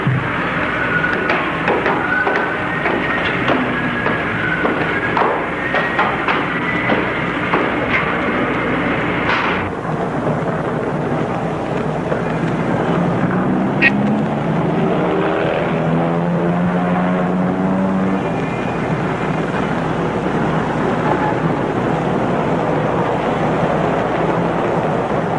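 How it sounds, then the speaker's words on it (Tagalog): Helicopter flying nearby in an older Filipino film scene, a loud continuous rotor and engine roar with a rising and falling pass in the middle, without talk. "may helicopter pala rito. Sino kaya sakay?"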